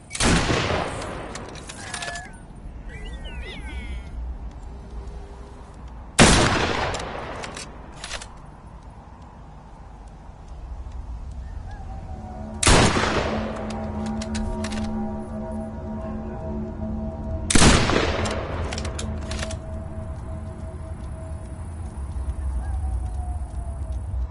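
Gunfire in the video game Killing Floor Incursion: several loud, sharp volleys of shots spaced a few seconds apart over a continuous background of game noise and creature cries.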